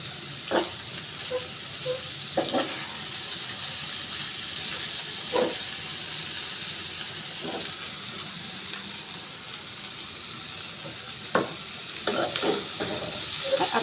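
Jute leaves (pat shak) fry in a pan with a soft, continuous sizzle, broken by occasional light clinks and scrapes of stirring.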